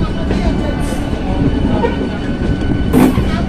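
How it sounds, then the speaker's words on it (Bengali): A Santragachi–Kharagpur local train rolls along loudly and close, with a steady rumble, rhythmic clatter of wheels on the rails and brief squeals, continuing throughout. "দুরাত জার্নি করে আসছে ট্রেনটা, অনেক বড় গাড়ি।"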